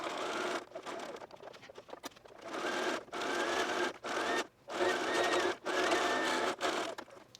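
Sewing machine hemming knit fabric for a dress, close whirring runs of rapid stitching broken by short pauses as the fabric is turned, no talking.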